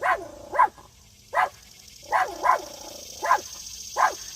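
Muffled barking from a dog outside the house comes in a steady series of about seven single barks spaced roughly half a second apart, heard from a distance with no talking.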